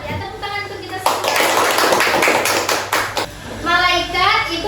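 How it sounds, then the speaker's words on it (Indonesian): A classroom group claps hands together in a burst of several seconds of dense, close clapping, framed by a teacher and children speaking before and after. "tepuk tangan untuk kita semua"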